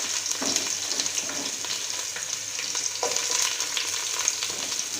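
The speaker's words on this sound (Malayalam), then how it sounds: "അടുത്തായിട്ട് വെളുത്തുള്ളി അരിഞ്ഞതാണ് ചേർത്ത് കൊടുക്കുന്നത്" Sliced garlic and pepper fry in a pan for chicken stew, making a continuous close sizzle with light stirring scrapes throughout and no talking.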